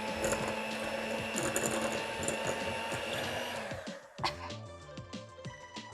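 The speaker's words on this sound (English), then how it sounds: "Yeah, it's my mixer." An electric kitchen mixer whirs steadily at close range while a cookie batter is mixed for unicorn cakes, its motor hum joined by mechanical rattling, then the tone shifts and stutters briefly near the end.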